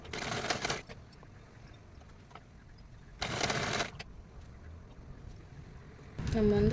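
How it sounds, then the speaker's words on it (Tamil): A sewing machine stitching old fabric pieces for a craft project runs in a few short bursts, each lasting under a second, with quiet pauses between them. "நல்ல பக்கத்தில் இதே மாதிரி வச்சு தையல் மிஷினில் இப்படி வச்சு ஸ்டிச் பண்ணி எடுத்துக்கணும்."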